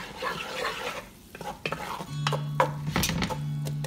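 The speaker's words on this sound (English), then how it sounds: "Until it get a little bit of a sizzle" Seasoning sizzles and crackles while frying in a hot pot for crawfish and shrimp étouffée, while a utensil scrapes and stirs, with a steady low hum from a stove or fan underneath.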